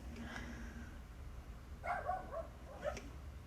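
Dogs barking: a few separate barks and yips spread across several seconds, at moderate distance over a low background hum.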